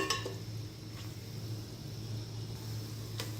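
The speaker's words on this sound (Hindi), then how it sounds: "कोफ्तों की भी हम 3 से 4 मिनट के लिए अच्छी तरह से भुनाई कर लेंगे" Koftas frying and being stirred with spices in a pan, a steady low sizzle running throughout with a few clinks of a utensil against the pan near the start and end.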